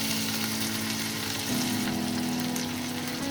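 Cashew pieces and three green chilies frying in a pan, a continuous close sizzle with a low steady hum underneath, no talking.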